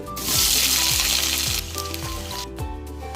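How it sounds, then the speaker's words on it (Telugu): Thin, long-sliced large onion dropped into hot oil for bagara rice, giving a loud bright sizzle that surges then settles, with faint tonal background music underneath. "ఈ ఉల్లిపాయ ముక్కలు బాగా ఫ్రై అవ్వాలి"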